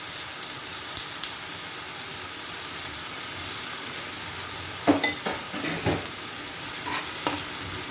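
Fish manchurian with ginger and garlic cooks in its sauce in a pan, giving a steady background sizzle with occasional louder stirring scrapes and clinks.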